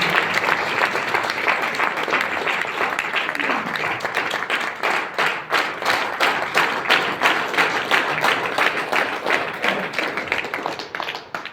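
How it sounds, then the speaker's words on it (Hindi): A crowd applauds loudly and steadily, dense clapping that keeps going without a break and swells into rhythmic claps toward the end. "एक बार जोरदार तालियां बजा दीजिए"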